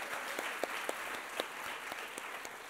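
An indoor crowd at the opening ceremony of the 2016 Arkansas 4-H State O-Rama gives steady, dense applause for a few seconds, with some sharper individual claps standing out.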